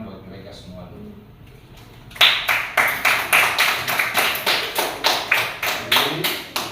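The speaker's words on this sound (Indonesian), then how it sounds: "Jadi tepuk tangan buat mereka semua dulu." A class of students claps together in a schoolroom, starting after a stretch of quiet and settling into loud, evenly spaced unison claps, roughly two per second, repeating steadily to the end.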